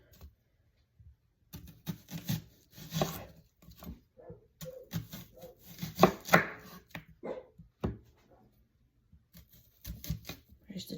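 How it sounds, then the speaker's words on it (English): An onion sliced into rounds with a kitchen knife on a cutting board gives crisp, irregular chops, some in quick bursts and others spaced apart, with a few quiet pauses between runs of cuts. "just try to slice your rounds as even as possible"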